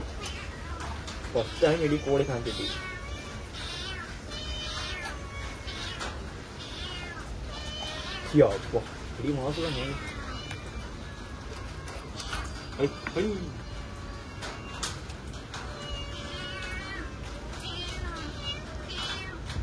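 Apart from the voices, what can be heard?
cat meowing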